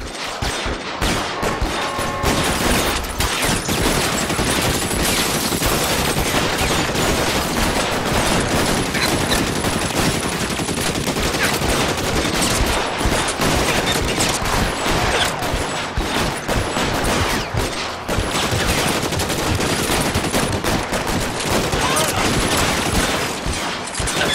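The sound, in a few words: gunfire in the video game L.A. Noire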